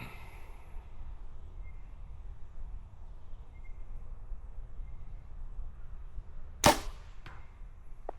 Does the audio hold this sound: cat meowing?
no